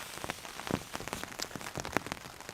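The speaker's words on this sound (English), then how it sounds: "The fire's got enough residual heat to deal with this rain, and I'm under this canopy, so not a lot of it's getting through." Steady rain pattering on a tarp canopy over a woodland wild camp, a dense close patter with scattered louder individual drops, no voices.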